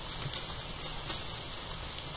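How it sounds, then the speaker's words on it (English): Steady hiss of rain falling in the video game The Forest of Drizzling Rain, an even, unbroken wash of noise with no distinct drops standing out and no voices. "It rained inside the house for a split second."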